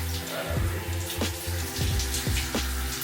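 Water runs steadily from a filtered shower attachment onto hair, a close continuous hiss and splash with shifting gurgles as the stream moves, no talking.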